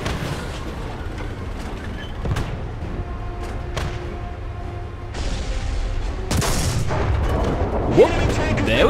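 Tank cannon shots in War Thunder come as deep booms among engine rumble and battlefield noise, with sharp blasts near the start and midway, and someone talks over them.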